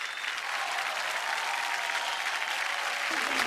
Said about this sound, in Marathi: जोरदार टाळ्या होऊन जाऊ दे.